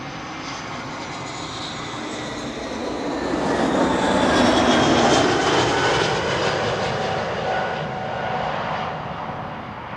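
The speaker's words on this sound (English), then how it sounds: "arriving from Barcelona. It's an A320." An Airbus A320 airliner arriving from Barcelona at Amsterdam Schiphol passes fairly close, its broad jet roar swelling to a peak midway and slowly fading, with no voices over it.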